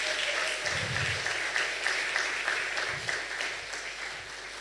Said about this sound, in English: the government deserves a big round of applause for that